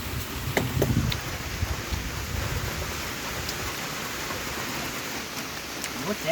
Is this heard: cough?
no